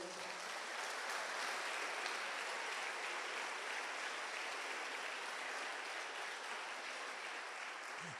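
A church congregation applauds, a dense, steady wash of clapping that holds at an even level throughout, somewhat distant and without voices over it.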